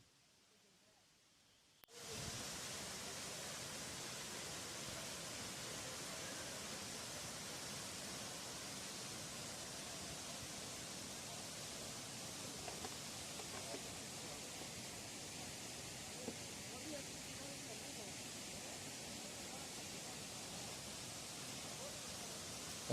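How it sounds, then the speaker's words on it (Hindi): Waterfall in Samahni, Azad Kashmir, a broad, steady rushing roar of falling water that starts abruptly after two seconds of quiet and continues unbroken. "इतनी खूबसूरत वाटरफॉल को देखने के लिए"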